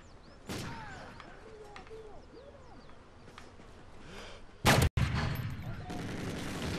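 A single sharp rifle crack rings out in a first-person shooter match while playing a Lynx sniper class, sudden and loud against a quiet ambient backdrop with owl-like hoots earlier, followed by lingering noise.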